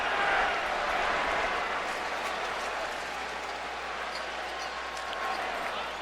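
A Yankee Stadium crowd at a 2007 playoff game between the Indians and Yankees roars in a dense, continuous wash of cheering that holds steady throughout.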